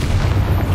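A Bombarda spell explosion from Hogwarts Legacy on PS5 booms out as one deep, loud, sustained low rumble that stays steady for under a second, with no speech.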